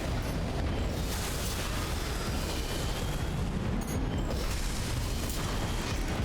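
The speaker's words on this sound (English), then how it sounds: "Really probably shouldn't be using my heavy cannons against those guys." Heavy cannons firing in Armored Core VI, loud dense booms and blasts merging into a continuous rumbling barrage of explosions and mechanical noise.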